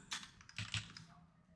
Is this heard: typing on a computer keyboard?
yes